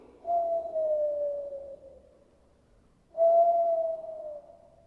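Two long, soft whistled tones imitating a breeze through twigs, each gently gliding downward, separated by a brief pause; breathy and airy like wind passing through thin branches.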